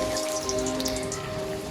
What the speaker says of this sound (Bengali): এবার তেল গরম হয়ে গেছে কড়াতে। এবার আমি একটা একটা করে কচুরি ছেড়ে দিচ্ছি।